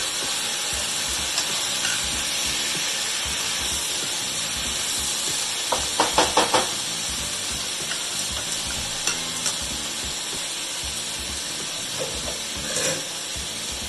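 Fenugreek leaves and potatoes for an aloo methi curry fry in a pan with a steady close sizzle and hiss, broken by a brief burst of stirring scrapes midway and a few later clatters.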